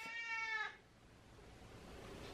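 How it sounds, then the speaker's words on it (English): A hungry cat gives one drawn-out, tonal meow up close, then falls quiet against faint room noise. "this cat is not going to stop, so I have to feed her"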